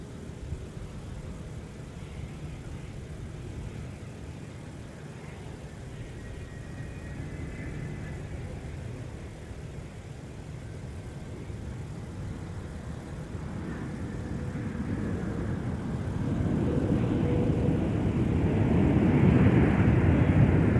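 Delta airliner arriving from London Heathrow at Minneapolis airport, a broad jet roar that builds steadily from a distant rumble to a loud, close pass over about twenty seconds, with no talk.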